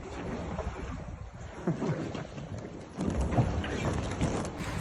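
The IMOCA racing sailboat VMD Montmanin-Mayenne rolls on a windless swell at sea, giving a continuous rough wash of water and hull noise with wind buffeting the microphone, growing louder near the end.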